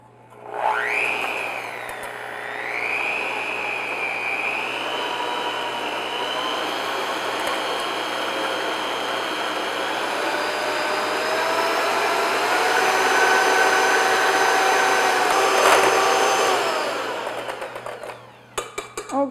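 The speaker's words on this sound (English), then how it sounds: "I'm using a hand mixer." An electric hand mixer runs on high speed beating a thick, light batter for fruit and nut bars, a steady close whine whose pitch shifts slightly as it works, then cuts off at the end.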